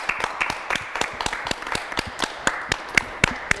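Scattered claps from a small audience, a few hands striking in an uneven rhythm, moderately close and fairly light, with no voices over them.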